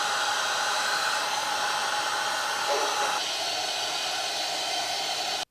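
A heat gun blows a steady, close hiss for several seconds while shrinking heat-shrink butt connectors on fuel pump wiring, the airflow shifting slightly midway before it cuts off abruptly.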